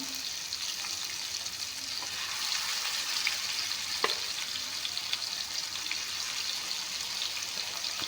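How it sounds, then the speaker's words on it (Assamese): Fish frying in hot oil for a homemade fish fry, a steady dense sizzle and crackle running throughout at moderate loudness, with a few sharper pops and no speech. "এয়া চাওক, মাছখিনি ভালকৈ ভাজি ল'ম।"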